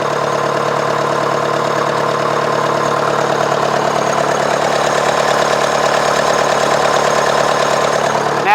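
Nuffield tractor's diesel engine running, a steady loud chugging idle with an even, knocking rhythm and a constant low drone, unbroken throughout with no talk.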